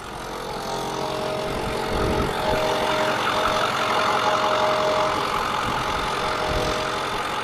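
A 2010 Ford F450 two-wheel-drive ambulance from a fire department, fitted with a 6.4 diesel engine, idles with a steady, continuous low rumble and clatter heard up close for the whole stretch.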